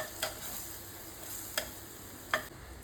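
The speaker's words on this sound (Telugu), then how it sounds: "కారం, ధనియాల పొడి 2 టీ స్పూన్లు, వెన్న వేసుకొని కలుపుకోవాలి." Chilli powder, coriander powder and butter are stirred together for a chicken dish, with a quiet continuous hiss and three brief scraping taps of a spoon against the vessel; no voices are heard.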